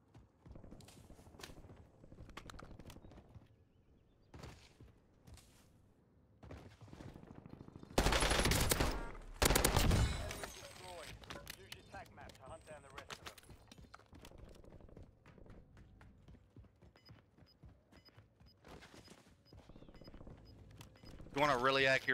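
Gunfire in the Call of Duty video game crackles in scattered bursts, with a loud rapid barrage of automatic fire in the middle amid quieter footsteps and game effects.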